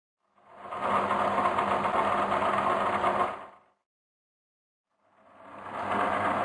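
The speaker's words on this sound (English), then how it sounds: "Upon switching on the power, make sure that the polishing wheels are moist in order to avoid overheating." A DICK SM 111 grinding and sharpening machine with moistened polishing wheels whirs loudly for about three seconds, cuts out to silence, then spins up again.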